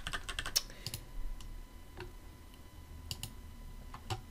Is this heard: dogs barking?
no